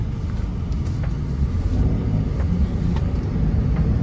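A 2025 Daihatsu Ayla swinging through a U-turn on a wide road, heard as a steady low engine and road rumble from inside the cabin, with no clear voices.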